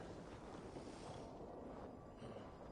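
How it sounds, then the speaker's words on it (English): Wind in Assassin's Creed Valhalla, a steady broad whooshing gust with a faint rushing, sea-like wash, continuous and fairly quiet. "Windy."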